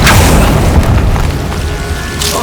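A Confringo spell blast in Hogwarts Legacy lands as a loud, close, booming explosion with a rumbling fiery tail that fills the whole moment, and a second burst flares at the very end.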